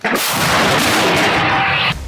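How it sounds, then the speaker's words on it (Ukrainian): A loud, close gunshot blast bursts out and rolls on as a heavy roaring boom for nearly two seconds before cutting off. "Постріл!"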